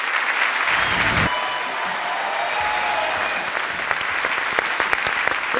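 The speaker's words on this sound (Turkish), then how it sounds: "Alkışlar Yonca Evcimik'e." A television studio audience applauds a performer, a dense, steady wash of clapping that holds loud and even throughout, with faint voices beneath.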